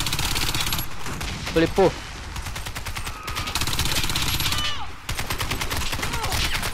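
Sustained automatic fire from a Mini Uzi in the online shooter Warface, rapid shots rattling in long continuous bursts with brief gaps. Someone speaks briefly over the gunfire partway through.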